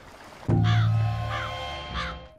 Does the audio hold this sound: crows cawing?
yes